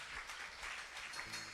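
A church congregation applauds during a Sunday service, a faint, steady wash of clapping heard from a distance, with no voices over it.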